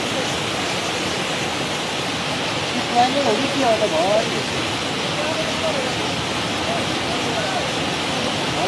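A flooded mountain river in Dolpa rushing in a continuous, loud, broadband roar that fills the whole stretch, with a few voices talking briefly over it.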